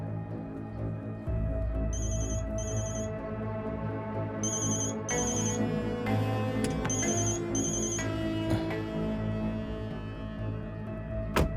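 A telephone ringtone repeats in electronic bursts over a background movie score in an action film scene, loud and close with evenly spaced rings.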